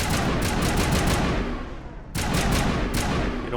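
Sustained automatic assault rifle fire in Mass Effect 1, loud rapid bursts running nearly unbroken with one brief pause before resuming, no voices.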